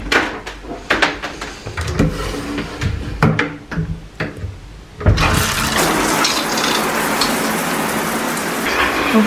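A shower runs at home: after several seconds of scattered knocks and shuffling, a steady broadband rush of falling water starts and keeps going, close and fairly loud.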